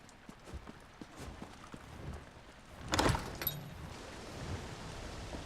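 A horse's hooves clip-clop softly and regularly in the Elder Scrolls video game, with a brief louder clatter midway through.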